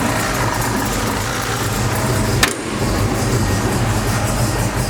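1965 Chevy C10 pickup engine idling low with a steady, rough rumble and one brief sharp knock partway through.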